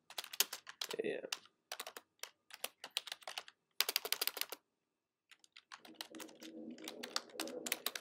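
Typing an email on a computer keyboard: bursts of crisp key clatter separated by short silences, close-up, with a low voice murmuring under the final stretch of keystrokes.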